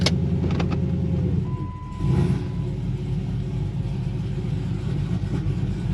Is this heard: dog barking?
no